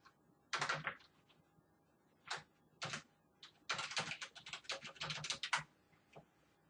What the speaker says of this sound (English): then type in how are you